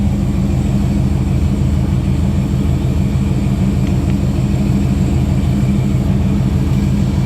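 An LS-swapped Chevrolet Monte Carlo G-body engine idles while warming up, a loud, close, steady low rumble with an even pulsing beat and no talk over it.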